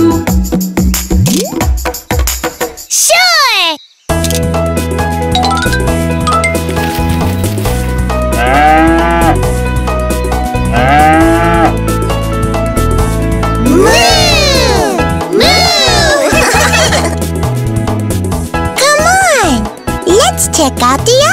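A sung voice imitates a cow mooing inside a cheerful children's phonics song about a cow, with the playful moos woven among bouncy backing music and bright melodic vocals throughout.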